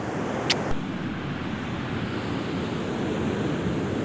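Winter surf rolls onto the shingle of Chesil Beach in a steady, washing roar mixed with wind buffeting the microphone, with a brief sharp knock near the start and no voices.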